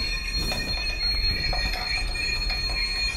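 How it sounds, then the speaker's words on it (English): Bachmann Branchline Class 419 MLV model train gives a faint, continuous hiss and crackle from arcing at its side pickups, a thin buzzing, popping texture with no talk. "Yeah, the sound of it hissing and crackling."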